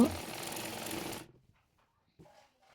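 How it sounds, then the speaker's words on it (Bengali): A sewing machine stitches a plazo salwar in a steady rapid whir for about a second before stopping, followed by a brief soft voice. "সালোয়ারটির প্রথমে কলি সেলাই করে নেব"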